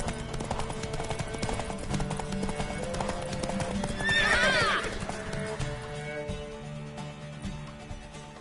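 Steady clip-clop of a galloping horse's hooves in a PS4 game throughout, with a loud whinny rising midway, set against a busy game soundscape.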